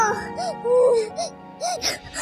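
A young boy in a Pakistani drama scene cries and whimpers close by: a run of short, quivering sobs with rising-and-falling wails, fairly soft, with breathy gasps between.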